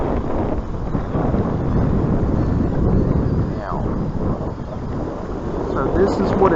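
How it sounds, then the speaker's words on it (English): Strong wind at the shore at low tide, a steady loud rumbling buffet that roars against the microphone without letup, with a voice faintly underneath. "It is a very windy day"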